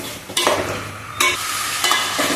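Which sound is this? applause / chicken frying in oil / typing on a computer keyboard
chicken frying in oil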